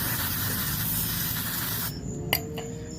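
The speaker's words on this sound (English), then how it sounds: "Got some brake cleaner here. Just gonna spray this off real quick." Brake cleaner sprayed from an aerosol can onto a car's brake fluid reservoir filter, a steady close hiss lasting about two seconds, then a quiet pause with a small clink.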